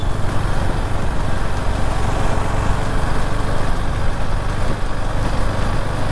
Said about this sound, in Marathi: आपल्याला बाईकचा आवाज येतो आहे, इंजिनचा आवाज येतो आहे